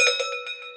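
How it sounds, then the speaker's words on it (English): An authentic Austrian Alps cowbell is struck several times in quick succession, each clanking metallic ring close and clear with a lingering tone. "this is actually an authentic cowbell from the Austrian Alps"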